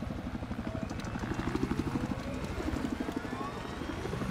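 Helicopter rotor chopping in the Battlefield 4 video game on the Lancang Dam map, a steady rapid pulsing beat with engine whine that stays close and loud throughout, with no talk over it.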